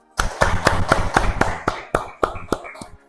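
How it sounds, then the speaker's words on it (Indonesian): Classroom applause of rhythmic group clapping, a dozen or so loud, close, sharp claps in a fairly regular beat that loosens toward the end, with no talking over it. "beri aplaus untuk kita semua"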